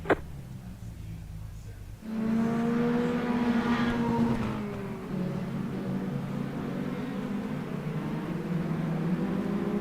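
A mini stock race car engine revs on the track, loud and close, with a steady rising drone that kicks in after a brief quieter opening and holds to the end.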